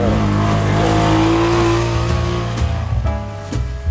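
A 2015 Honda Pioneer 500 side-by-side on Camso X4S tracks drives through woods, its engine loud and close with a steady drone and a few revs and bumps near the end.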